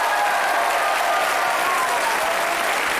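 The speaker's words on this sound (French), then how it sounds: "Vous avez raison d'applaudir" Studio audience on a French TV game show applauds loudly and steadily, a dense unbroken wash of clapping close up with no voices over it.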